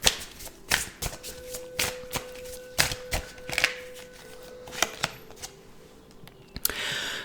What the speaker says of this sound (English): Let me grab these cards here.